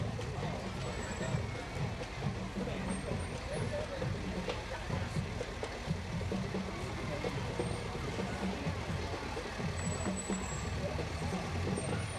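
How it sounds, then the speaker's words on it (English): A volunteer fire department's fire engine rolls past in a parade, a steady low engine rumble with crowd noise and people talking throughout. "Fredonia Engine 97, Fredonia Volunteer Fire Department."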